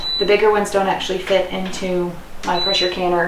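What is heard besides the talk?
beeping in kitchen during chicken canning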